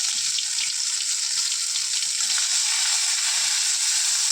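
Gourd leaves and black cumin sizzle in a small amount of hot oil, a steady loud close frying hiss with no voice over it.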